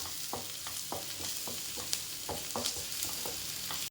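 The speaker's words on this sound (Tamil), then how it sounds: "இப்போ வெங்காயம் வதங்கிடுச்சு" Onions sauté in a pan for a bottle gourd and peas gravy, with a continuous sizzle broken by regular spatula scrapes about every third of a second. The stirring is close and moderately loud, with no talking.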